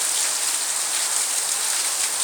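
Heavy rain pours down steadily in Vejalka village, Ranpur taluka, Botad district, a dense, even hiss of drops on surfaces that stays loud and unbroken throughout, with no voices.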